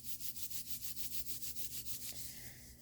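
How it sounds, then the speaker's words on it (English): Two hands rubbing briskly together, a rhythmic whooshing friction of about a dozen even strokes, close and soft, easing off near the end without any talking. "bringing your hands together, rubbing them"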